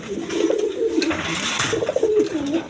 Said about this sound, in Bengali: এক পেয়ার রেসার কবুতর আছে